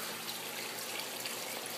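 Water pours steadily down a small waterfall from one aquaponics tank into the next on an urban permaculture farm, a continuous close, hissing rush with no pauses.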